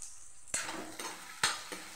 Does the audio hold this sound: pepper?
yes